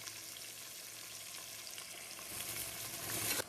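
Two large onions, sliced into thin long strips, sizzle steadily in hot oil for vegetable biryani, a continuous broadband frying hiss that swells louder toward the end with a brief stir.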